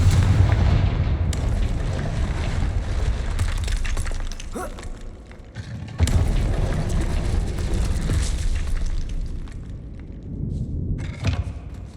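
Confringo fire spell exploding in the video game Hogwarts Legacy, loud booming blasts that rumble and crackle continuously across the whole stretch, with a second big burst midway and no talking.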